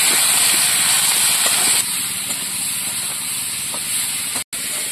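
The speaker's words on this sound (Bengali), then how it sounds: "কাঁচা লঙ্কা ছেড়ে, লবণ, হলুদ, সবজিটা ভালো করে কষিয়ে নেব।" Vegetables with green chili, salt and turmeric frying in a pan, giving a loud, continuous sizzle and hiss that eases slightly partway through, broken by one very brief dropout near the end.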